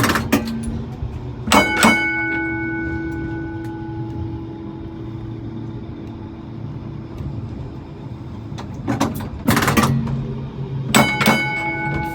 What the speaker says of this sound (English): So the bell is on the floor, the little switch there with your foot